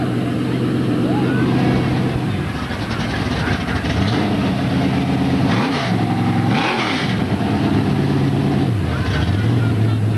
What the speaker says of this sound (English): It sounds kind of like my car.